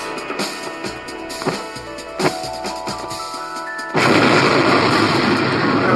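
Repeated booming blasts and crackling reports like artillery fire, then a sudden shift to a dense, roaring wash of noise that continues loudly.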